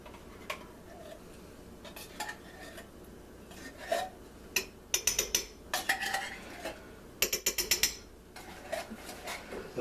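A spoon stirs cream of mushroom soup into ground beef inside a crockpot, making repeated soft scrapes and clinks against the pot that come in irregular, closely spaced clusters.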